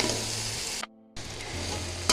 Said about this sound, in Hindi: जी गोश्त हमारा अच्छे से भुन चुका है।